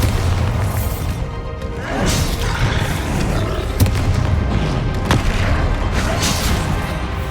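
Spell blasts and booming explosions from the Hogwarts Legacy video game, a dense sequence of heavy crashes and roars with sharp impacts throughout, loud and continuous.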